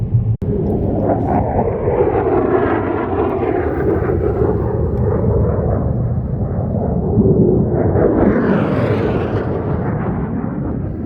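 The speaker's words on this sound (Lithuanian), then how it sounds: "Čia daug skraidančių lėktuvų." Broad, steady roar of airplanes passing overhead in the open desert mountains near Death Valley, a continuous loud rumble swelling slightly toward the end, with no voices.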